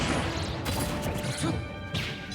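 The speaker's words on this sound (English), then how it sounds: "getting clipped by his own grenade there" Grenade blast from Snake in a Super Smash Bros. match, a loud crashing burst amid dense game effects, with a second smash near the end.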